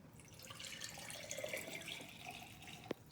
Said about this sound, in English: we'll put our 3/4 cup of water into the glass.